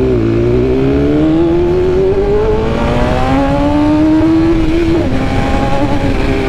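A 2022 BMW S1000RR sport bike ridden hard, its engine loud and close, revving up through rising pitch, easing briefly, then climbing again with gear changes, no voices over it.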